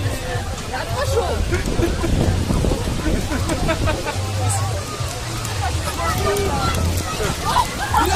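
A sudden hailstorm in Novosibirsk, Russia, pours down as a dense, loud rattle of rain and hail with low rumbles of thunder, while several people talk and exclaim throughout.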